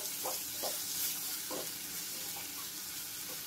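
Turmeric and Malvani masala frying in a pan, a steady close hiss of sizzling oil with soft scraping stirs every half second or so, no voices over it.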